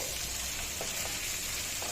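Prawns frying in oil in a pan give a steady, even sizzling hiss with faint crackles, close and continuous throughout.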